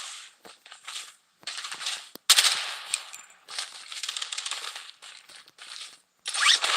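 Bursts of automatic gunfire in the video game Payday, clattering volleys of shots separated by short gaps, fairly loud, with a sharp impact or two mixed in and no voices.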